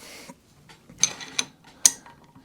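Metal spanners are picked up from a workbench and handled close by, giving a few sharp metallic clinks and clacks with soft scraping between them, then a final bright clank.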